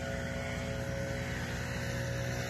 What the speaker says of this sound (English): Sounds like he's driving a Yamaha.